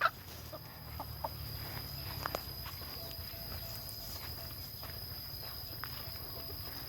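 Chickens cluck softly in the background of an outdoor scene, with scattered rustling and footstep-like scuffs and no talking.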